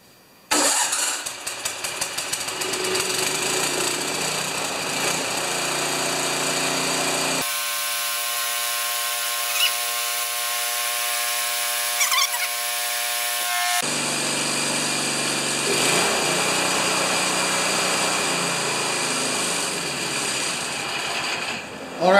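John Deere TRS 24 snow blower engine starting and running loud and steady nearby, dropping out for several seconds before roaring back and holding at high speed through to the end.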